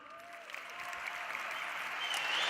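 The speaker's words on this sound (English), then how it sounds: "clap it up for the youngsters one more time." Audience applause at a Web Summit 2016 talk, a dense wash of clapping that swells steadily louder over a couple of seconds, with no speech over it.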